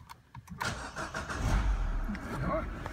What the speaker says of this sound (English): I'll switch the engine on.